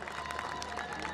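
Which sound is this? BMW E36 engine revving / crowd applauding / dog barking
crowd applauding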